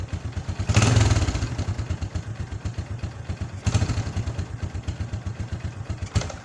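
A motorcycle engine idles roughly and misfires from a faulty spark plug cap, its uneven thumping pulses swelling in two louder surges before the running sputters toward a stall, close and continuous.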